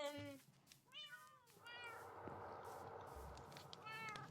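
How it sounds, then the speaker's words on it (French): Cats meowing in a kennel in Minecraft, several distinct rising-and-falling meows spaced apart over a soft steady background hiss, fairly close and clear with no talk. "Elle s'est fabriqué un chenil avec tous ses chiens et chats dedans."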